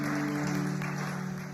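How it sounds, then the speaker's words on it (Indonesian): A church congregation applauds in a dense, steady wash of clapping that fills the room and holds at a constant level throughout, with no voices rising above it. "Saya dengar tepuk tangan ini sekarang sedikit aneh, saudara."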